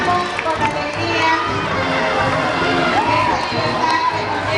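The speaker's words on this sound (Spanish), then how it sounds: "Vamos a darle un fuerte aplauso." Children in a fourth-grade school assembly in November cheer and shout as a loud, continuous crowd din, with excited young voices layered over each other throughout.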